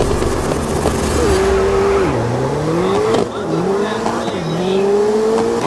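Race cars revving on the starting grid in the PC racing game Grid 2019, loud engines holding steady and rising in pitch as several cars pull away together, with a faint voice underneath.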